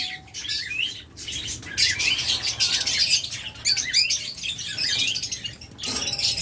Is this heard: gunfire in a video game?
no